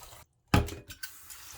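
Uncooked rice rinsed in water: a brief splash and swish of grains and liquid, then a few fainter drips and sloshes, close by, with no talking.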